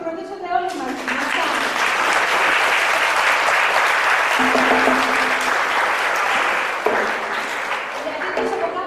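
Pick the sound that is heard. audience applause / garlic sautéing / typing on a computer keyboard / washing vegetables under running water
audience applause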